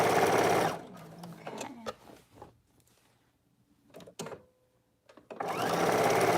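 Sewing machine stitching a shift dress, running in loud continuous bursts at the start and end with quieter handling and brief clicks of fabric and controls between.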